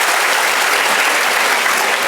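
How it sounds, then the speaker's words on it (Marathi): Teachers at a teachers' honour ceremony applaud themselves, a loud, dense burst of clapping from a large crowd that holds steady throughout with no break. "एकदा जोरदार टाळ्या होत्या स्वतःसाठी"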